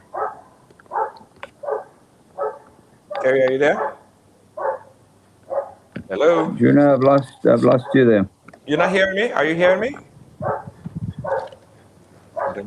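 A dog barks in short, evenly spaced yaps over a phone call, sounding small and tinny through the line while someone speaks loudly in between and over the barking.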